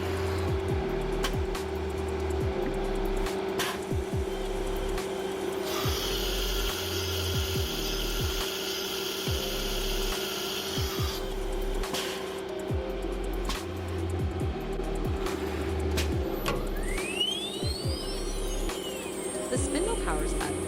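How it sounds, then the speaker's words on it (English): CNC router changing tools to a 1/8 inch end mill, a steady machine hum with rhythmic mechanical clunks and a sustained high whine, then a rising spindle whir toward the end, with a voice talking over it. "The machine first changes tools, selecting the first 1/8 inch end mill."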